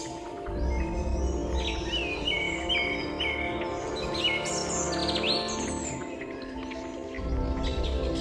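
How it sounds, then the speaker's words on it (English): Several birds sing and chirp in overlapping phrases in the Himalayas of Nepal, over a steady low rumble, with bright whistled notes rising and falling throughout. "The sound of birdsong rises like a natural hymn"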